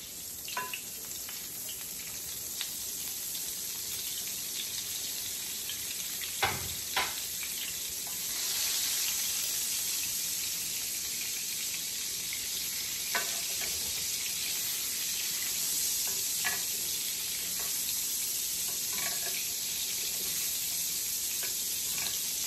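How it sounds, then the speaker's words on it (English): Unsalted butter sizzling in hot oil in a pan with blackened salmon makes a steady, hissing fry throughout, with a few faint clicks and bumps from the cookware. "The oil should be hot. So now we're gonna add the unsalted butter."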